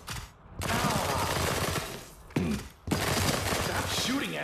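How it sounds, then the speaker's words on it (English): Dense, loud automatic gunfire rattles in the VR shooter After the Fall during a Quarantine Center round on Master difficulty, coming in sustained bursts with brief gaps while a voice talks over it. "Can we please stop shooting each other?"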